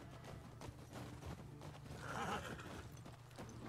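Shimmer, a horse in the video game The Last of Us Part II, gives a single clear whinny midway, rising over a steady low in-game ambience with faint hoof and movement noises around it.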